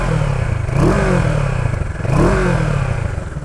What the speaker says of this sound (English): And we give it a little quick rev right over here.